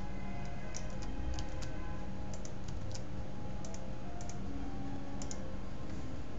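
A computer mouse clicks while someone builds a frequency histogram in Excel: scattered sharp, light clicks, single and in quick pairs, close by over a steady low hum.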